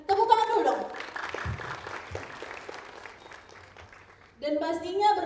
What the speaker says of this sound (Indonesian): Dan tepuk tangan dulu dong.